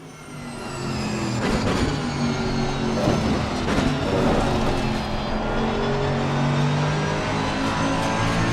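Race car engine on an out lap in the Assetto Corsa Competizione racing game, revving up and down through gear changes, loud and continuous with no talk.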